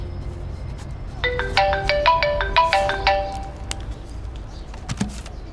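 A mobile phone ringtone plays a clear, bright melodic tune of rapid repeated notes for about two seconds in an indoor scene from a Chinese drama. Soft clicks and room noise follow.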